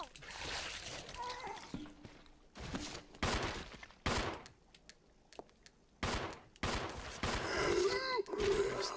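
Gunfire in Resident Evil 0, a string of sharp, loud shots in quick bursts with watery splashing between them, while a voice talks over the action.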